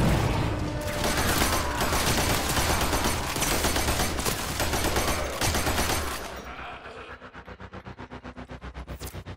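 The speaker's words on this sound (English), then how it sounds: "Sentry gun entering the field." Rapid, loud automatic fire from a sentry gun in the video game Warframe. It is a dense, continuous burst lasting about six seconds, then a rhythmic mechanical pulsing as the firing winds down.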